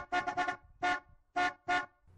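A van horn beeps in a quick burst of short toots, then after a pause gives two longer separate honks, fairly close and clear.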